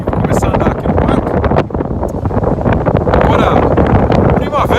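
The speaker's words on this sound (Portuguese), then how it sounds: "no meio da ventania aqui" Strong wind buffets the microphone in a park beside Lake Ontario in Toronto, a loud, continuous roar with gusty surges throughout, while someone talks over it.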